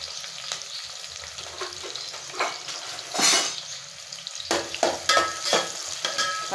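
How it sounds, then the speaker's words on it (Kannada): Onions frying in hot oil in a wide pot, a steady sizzle broken by several louder bursts of stirring and scraping, close up with no talk. "ಇದಕ್ಕೆ ಸ್ವಲ್ಪ ಎಣ್ಣೆ ಹಾಕಿ ಈರುಳ್ಳಿ ಎಲ್ಲ ಫ್ರೈ ಮಾಡ್ಕೊತೀನಿ"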